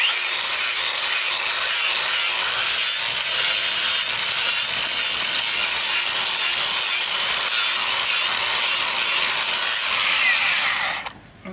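A grinder trims a horse hoof, scooping the quarters, in a loud, steady abrasive whine that runs continuously for about eleven seconds before cutting off abruptly.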